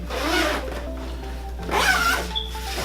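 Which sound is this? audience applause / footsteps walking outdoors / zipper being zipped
zipper being zipped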